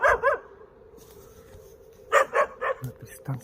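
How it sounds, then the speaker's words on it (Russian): Puppies on an island near Yakutsk giving short yappy barks and whimpers in quick bursts, close by, with a quiet gap in the middle before another cluster of yips. "Щенки."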